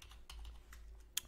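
Quiet computer keyboard typing, a few separate key presses and short bursts spaced irregularly, close but soft, with no talking.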